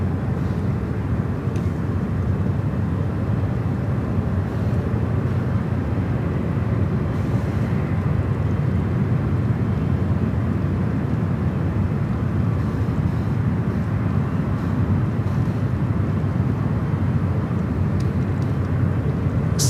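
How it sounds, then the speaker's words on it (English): An Air France Boeing 777 airliner approaching San Francisco International Airport, a steady broad jet roar that holds level throughout without voices. "We do have that Air France 777 heading our way."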